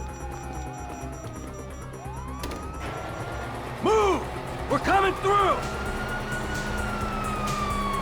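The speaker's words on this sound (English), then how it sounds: "you hear that? Sirens." Police sirens wail in a Grand Theft Auto PC game scene, rising and falling loudly over a steady low rumble of vehicle noise while several voices shout throughout.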